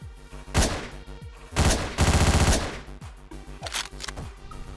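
Shotgun blasts in Hotline Miami, several loud booming shots with a sustained burst of fire in the middle, punchy and close over a thumping synth soundtrack.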